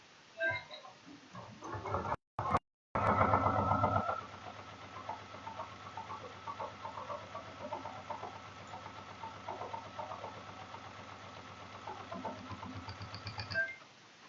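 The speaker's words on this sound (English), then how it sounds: "now I'm going to start sewing" Sewing machine stitching quilt binding with an AcuFlex foot, running as a steady, close mechanical whir with a rapid needle rhythm for about ten seconds before stopping.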